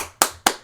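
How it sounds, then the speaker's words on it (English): Two sharp, close hand claps followed by the start of a third, quick and isolated against near silence, given as a small clap for a hockey team. "Give a little clap for my team."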